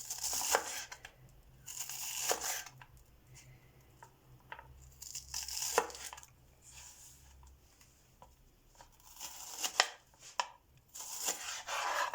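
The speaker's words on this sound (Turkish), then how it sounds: "İster bu şekilde halka şeklinde doğruyoruz." A knife chops red onions into rings on a cutting board in irregular bursts of quick crisp strokes, with quiet pauses between, close up.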